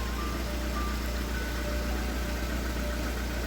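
A VAZ Priora engine idles close by with knocking hydraulic lifters, a steady low hum with a constant mechanical rattle running underneath, unchanging for the whole stretch and free of voices.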